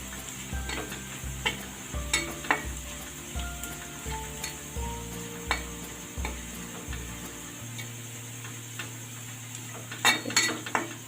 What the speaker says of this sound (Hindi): अच्छे से चलाते हुए इनको भूनिए।